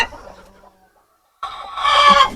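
A hen settling down to lay eggs lets out a short burst of throaty clucking, heard close and alone after a moment of near silence.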